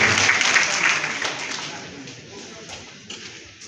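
Applause from a graduation crowd at Government College Funtua, a dense clatter of clapping that starts fairly loud and thins out gradually, with some voices mixed in.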